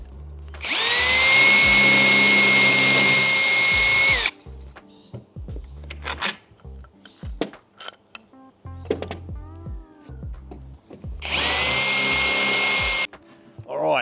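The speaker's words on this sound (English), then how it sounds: "let's go ahead and get them all drilled" A power drill bores holes into a boat hull to mount an electric motor, with two loud sustained whirring runs, one at the start and one near the end, separated by clunks and handling noises.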